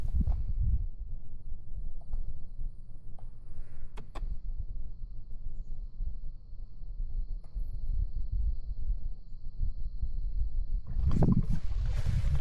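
Paddling a solo canoe off a small island in Maine: soft low splashes and water swirls from paddle strokes, a couple of sharp knocks against the hull, and a fuller splash near the end over quiet outdoor ambience.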